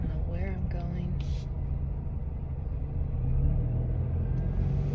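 A car creeps through a parking lot with a steady low engine rumble and road noise, while a person talks over it throughout.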